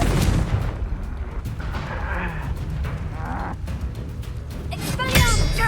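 A Confringo blasting spell explodes in the video game Hogwarts Legacy, a booming burst amid ongoing combat noise, with a sharp, loud blast near the end.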